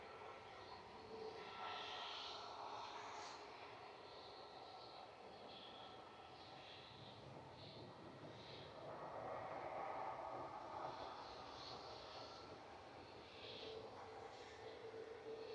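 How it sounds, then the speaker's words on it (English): A Ryanair jet taxiing out for Faro at Manchester Airport produces a faint, steady engine whine and hum heard from a distance, with soft rising and falling tones and no voices. "this is Ryanair heading on to Faro"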